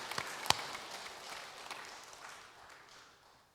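A church congregation at a Sunday service claps in applause, starting with a sharp burst and then a spread of clapping that gradually fades to a quieter patter.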